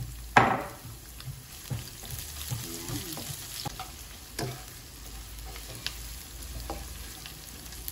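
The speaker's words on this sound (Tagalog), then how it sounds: "golden brown ang ating bawang. Pwede natin ilagay ang sibuyas." Sliced onion dropped into a hot pan with golden brown fried garlic, hitting the oil with a sharp sizzle that settles into a steady, quiet frying hiss broken by a few stirring scrapes.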